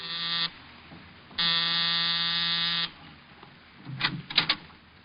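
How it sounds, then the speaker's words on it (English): An apartment door buzzer pressed in a 1950 Richard Diamond radio detective drama, a loud harsh electric drone sounding in two bursts, a short one then a longer one, followed by faint knocking or footstep noises. "I was punching the buzzer to Saxon's apartment."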